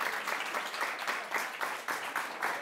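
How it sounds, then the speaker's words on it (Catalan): A studio audience applauds a contestant on a spelling game show, a dense, even patter of many hands clapping together at moderate volume for a few seconds. "Guanyes un aplaudiment."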